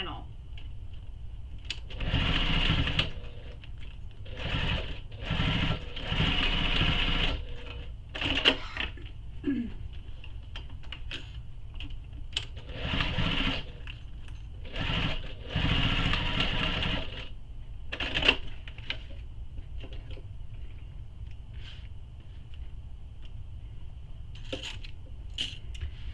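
A sewing machine bastes strap anchors onto a bag's back panel in short bursts of rapid stitching separated by pauses, with a person talking quietly between runs.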